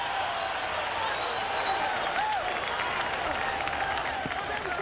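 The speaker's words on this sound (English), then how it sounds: "Durham crowd rises to its feet after a brilliant 4th round." Boxing arena crowd in Durham applauding and cheering after the fourth round, a dense, steady wash of clapping and shouting that stays loud and continuous throughout, with whistles and tonal calls rising above it.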